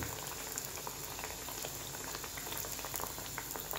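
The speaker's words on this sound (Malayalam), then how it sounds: "ചൂടായ എണ്ണയിലേക്ക് ഇതിടാം" Mangalore banana buns fry in hot oil, giving a dense, continuous bubbling crackle close by that stays fairly quiet and steady throughout.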